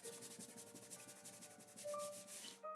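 A napkin is rubbed flat against a slim-line card to smooth out its wrinkles, giving a steady, close, soft scratchy rubbing that runs continuously with faint tonal squeaks near the end.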